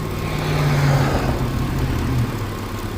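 A 2004 Mitsubishi Eclipse with the 3.0L engine idles steadily up close, a low continuous hum and rumble with a faint rise near the middle; an engine that has had an idle surge and stalling trouble, running smoothly here with no talk.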